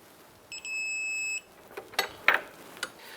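A click-type torque wrench signals as a 17 mm bolt is torqued to 110 foot-pounds on a 2002-2007 Jeep Liberty front suspension. A short electronic beep sounds first, followed by a few sharp metallic clicks and clanks.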